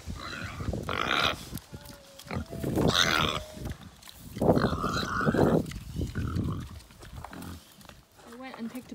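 Pigs on a farm grunting and squealing in several loud, close bursts, mixed with a person talking nearby.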